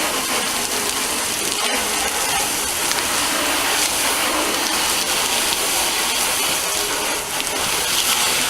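Water sprayed steadily over a 1962 Cadillac door during washing, a loud, continuous hissing gush close by with one brief break near the start.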